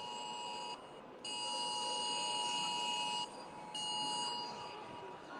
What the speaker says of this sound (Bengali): সকলের ফোনে অ্যালার্ম বাজছে চারিদিক থেকে অ্যালার্মের শব্দ শুনতে পাচ্ছি আমরা